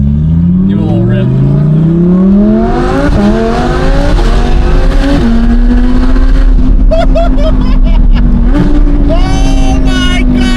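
An Audi R8 sports car's engine revs and pulls hard through rising gears, loud and close from start to finish, with rapid upshifts and a sustained high drone near the end.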